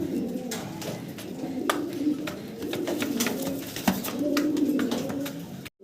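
Young breeding pigeons coo repeatedly in low, rolling phrases close up, with occasional sharp knocks and faint voices in the background.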